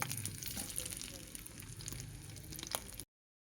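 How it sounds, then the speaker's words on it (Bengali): Oil left over from frying prawns crackles and sizzles softly in a pan, a steady low frying hiss with occasional pops, quite faint, that cuts off at the end. "চিংড়ি মাছ ভাজার তেলে আমরা আরেকটু তেল দিয়ে রান্নাটা শুরু করে দেব।"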